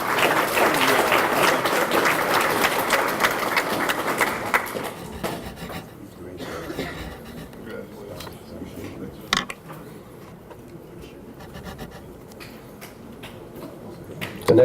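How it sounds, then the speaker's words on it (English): Applause from a banquet audience at an annual memorial scholarship dinner honoring a recipient: loud, dense clapping for about five seconds, then tapering into scattered claps and room murmur. "Let's give Cameron a round of applause, please."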